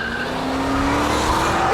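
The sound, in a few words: Ford Shelby GT500 drifting with tires squealing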